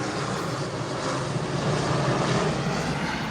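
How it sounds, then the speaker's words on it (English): Large jet airplane flying low over a home near an airport, a loud sustained roar that swells slightly and fills the scene, with no speech. "Y'all see that big old jet?"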